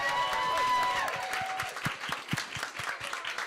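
An audience claps at a live event, a lively close patter of many hands that tapers toward sparser claps, with cheering and a voice mixed in at the start.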